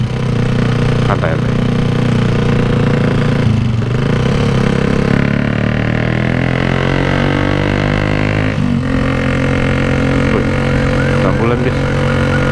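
Ongoing motorcycle ride along a road in Indonesia, with a steady engine hum and road noise filling the whole stretch, changing pitch as the bike shifts speed, while riders talk over it.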